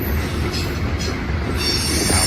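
A New York Central line train rolls past on the rails between Cincinnati and Columbus, a loud, steady rumble with squealing wheels and faint clickety-clack, and no voices.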